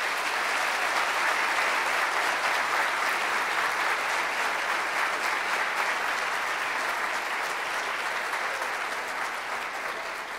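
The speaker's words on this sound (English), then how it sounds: "Can you give them a round of applause?" Audience applause for students from Wichita West High School at a Kansas education speech, a dense, steady clapping that fills the whole clip at full strength and thins slightly toward the end.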